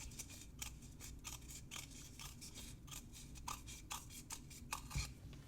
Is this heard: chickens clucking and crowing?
no